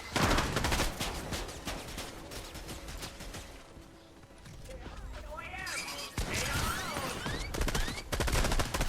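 Shotgun blasts and a rapid volley of gunfire in a Fortnite battle, loud and densely packed, with other game effects and a short whooshing sweep near the end, while a voice talks over the action.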